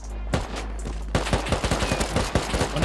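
Silenced LMG fire in the Rust video game, rapid bursts of muffled, thudding shots in quick succession after a short pause, loud and close, with no talking.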